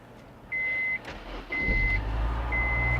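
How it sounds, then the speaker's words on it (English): Ignition switched on in a 2008 Honda S2000, three evenly spaced steady dashboard warning chimes up close, with a click and the rising hum of the car's systems and engine settling in under the later tones. "We're going to turn ignition on."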